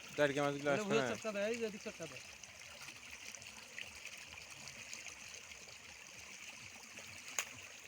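Stream current flowing where fish are caught with a net, a faint, steady watery rush throughout, with a voice-like tonal sound at the start and a small splash-like tick near the end.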